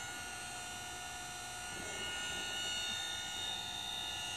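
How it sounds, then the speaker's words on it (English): A very quiet electric motor fitted to a Hobbies A1 treadle fret saw runs at full speed, giving a steady, low whir with a faint constant whine throughout, no voices. "That is a very, very, very quiet motor."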